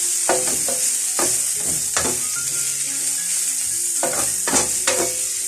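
Vegetables sizzle in a hot pan as they are stirred, sharp scraping strokes landing in loose clusters over a constant bright fry, close and fairly loud.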